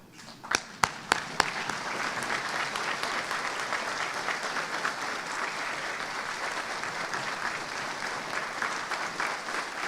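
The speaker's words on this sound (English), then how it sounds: "join me in applause as we show our gratitude for our veterans" At a Veterans Day ceremony, a few sharp, separate claps start things off before the crowd joins in with sustained, even applause that carries on for several seconds, heard from some distance.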